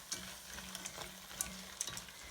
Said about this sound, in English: So I'm just adding in my pasta and I'm just coating it in the pan.